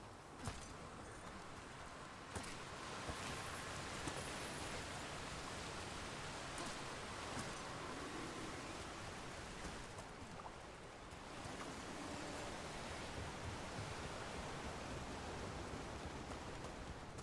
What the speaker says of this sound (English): The waterfalls.